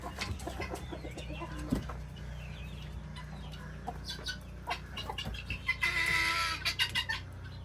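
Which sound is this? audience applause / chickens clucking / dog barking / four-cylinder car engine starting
chickens clucking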